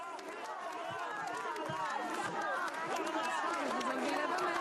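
A crowd at a French political scene chants Carla Bruni's name amid dense chatter and cheering, a continuous, busy mass of voices at steady volume.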